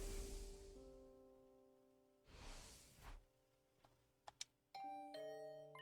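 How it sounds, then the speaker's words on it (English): A doorbell chimes in a video game visual novel, a bright two-note ding-dong following soft whooshes, clear and alone with no talk. "Was that my doorbell?"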